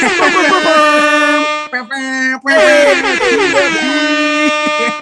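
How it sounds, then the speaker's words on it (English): A loud, blaring air horn blasts in long sustained tones, briefly broken twice, with a wavering pitch. "Air horn."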